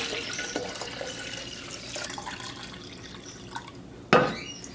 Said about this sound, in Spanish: Le voy a agregar el resto de agua.